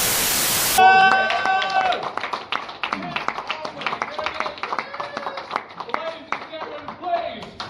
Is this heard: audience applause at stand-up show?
yes